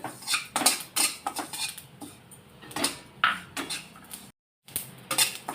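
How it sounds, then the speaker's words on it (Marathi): Sesame seeds dry-roasted in a pan until golden, a spatula clinking and scraping against the metal in quick irregular strokes, close and fairly quiet, with a brief silent gap near the end. "इथे मी आता तीळ पण भाजून घेणार आहे अगदी गोल्डन रंग येईपर्यंत भाजून घ्यायची तीळ"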